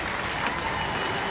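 A studio audience on Robot Wars applauds, a dense, steady wash of clapping that fills the whole moment at full volume.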